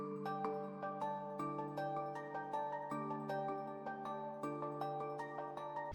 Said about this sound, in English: And the pattern itself with the bells sounds like this.